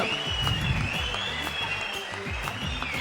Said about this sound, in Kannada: ಜೋರಾಯ್ನ ಒಂಜಿ ತಾಟಿನ ಬಿಟ್ಟುದು